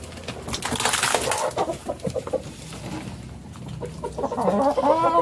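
Broiler and native crossbreed chickens cluck and squabble close by while eating leftover scraps, busy overlapping calls with a rising squawk near the end.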